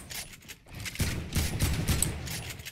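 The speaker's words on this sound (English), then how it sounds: "I'm gonna shoot his wall." Gunfire aimed at a wall in a video game, heard as a rapid burst of shots after a quiet moment, close and moderately loud, with a faint mechanical clatter.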